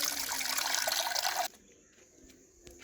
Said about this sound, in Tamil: இப்போ இது எதுவும் லீக் ஆகுதான்னு தண்ணி ஊற்றி செக்